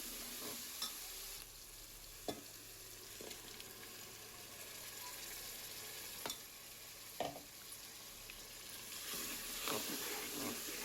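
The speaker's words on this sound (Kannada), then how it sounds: "ಪೂರ್ತಿ ಆಯಿಲೆಲ್ಲ ಸಪ್ರೇಟ್ ಆಗೋವರೆಗೂ ಫ್ರೈ ಮಾಡ್ತಾನೆ ಇರಬೇಕು." Masala for spinach pulao fries in oil in a pan, a soft continuous sizzle broken by occasional sharp scrapes and clinks as it is stirred, quiet and close.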